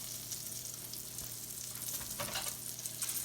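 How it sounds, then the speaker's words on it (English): Chicken fried steak sizzles steadily on a flat top griddle, a constant close hiss of frying fat that swells slightly near the end. "Now, I'm going to cook it right here on the flat top here"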